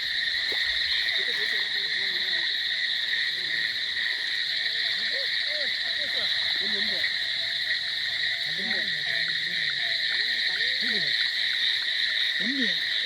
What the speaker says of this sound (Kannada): ಕಪ್ಪೆ ಅದು.